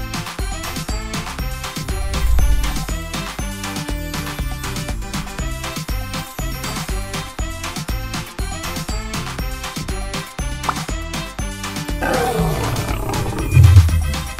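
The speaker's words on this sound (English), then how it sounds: "Lion." A lion's roar from a children's animal flashcard program rises near the end as a deep rumbling burst, set over continuous cheerful background music that plays throughout.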